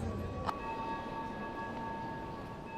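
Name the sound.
Notre Dame church bells tolling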